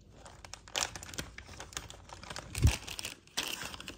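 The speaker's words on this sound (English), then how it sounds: "let me take it out of this plastic bag" A rubber stamp is pulled from a plastic bag, giving close, quiet crinkling and rustling in irregular bursts, with a few sharper crackles and soft handling taps.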